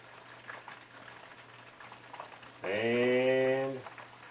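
Chicken wings with no breading frying in lard, a steady crackling sizzle throughout, briefly overlaid by a loud, sustained buzzing tone for about a second near the end.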